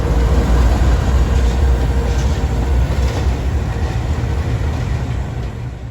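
A CSX freight train powered by big old GE locomotives rolls past close by in Aberdeen, North Carolina, a loud, steady low rumble and rattle of cars holding throughout with no talking.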